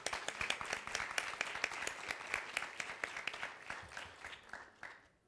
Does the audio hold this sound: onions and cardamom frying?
no